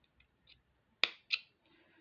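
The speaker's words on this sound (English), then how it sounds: "and I just cut it with scissors." Two sharp, crisp snips in quick succession as scissors cut through rubber tube, with faint small clicks before them in a quiet room.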